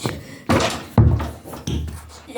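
A ball thrown high indoors and landing, producing three distinct thumping impacts roughly half a second apart, each with a short ringing decay, fairly loud and close, with no talking.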